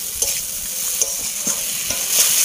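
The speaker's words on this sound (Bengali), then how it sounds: "আমি কষে নেব" Fried fish head and fried potato sautéed with spices in a pan, a steady loud sizzle broken by repeated scraping stirs of a spatula, with no talking.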